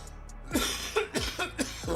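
A short run of four or five harsh coughs, close by, spaced unevenly over a quiet background.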